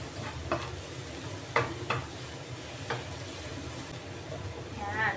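Minced garlic browning in oil in a pan for burger steak with mushroom gravy, giving a steady low sizzle throughout with a few faint clicks and taps of a utensil.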